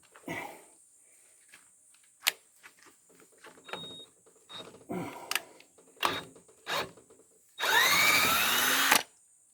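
Cordless drill on a 2 amp battery, doing a light job while fitting air bleeder pipes to XD2 diesel engine water pumps: scattered close clicks and handling knocks, then one loud whirring run of about a second and a half.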